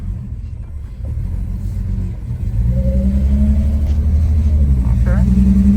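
An abandoned Mercedes with a newly swapped carburetor rolls down the road in low gear, its engine a steady, close rumble that grows slightly louder and more even partway through, with brief talk.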